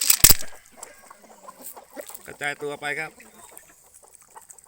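Chickens and a rooster cluck and call in a flock as corn is scattered for them at a morning feeding, with a sharp burst at the start and a run of clucks in the middle under a man's speech.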